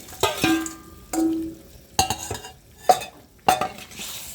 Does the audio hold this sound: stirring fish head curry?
yes